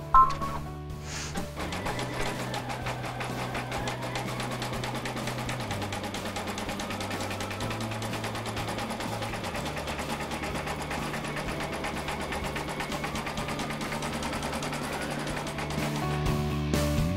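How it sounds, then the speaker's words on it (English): An embroidery machine stitches a zigzag around the edge of an appliqué corner, giving a continuous, even mechanical hum and rapid needle chatter that runs throughout at close range. "we just finished our zigzag stitching around the outer edge"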